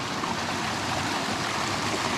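Purragulli Creek flows downstream from Yarralala, swollen after heavy rain, a steady close rushing of water that holds an even level throughout with no voices.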